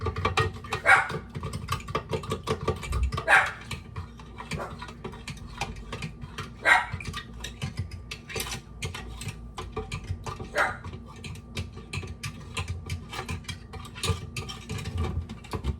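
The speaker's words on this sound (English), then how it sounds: "And my dog is barking." A dog barks several times at intervals, somewhat distant, over a steady background of kitchen clatter and light tapping.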